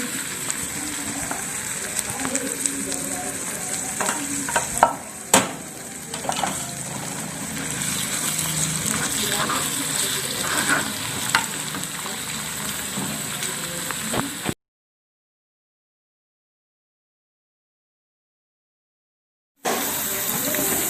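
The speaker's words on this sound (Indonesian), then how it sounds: "tempe bosoknya dicampur dengan bumbu yang sudah ditumis, diulek-ulek" Fermented tempeh is stirred and ground together with sautéed spices for sambal tumpang, giving close scraping, knocking and mushy mashing over a hissy background, with a few sharp thumps. The sound cuts to silence for several seconds, then resumes.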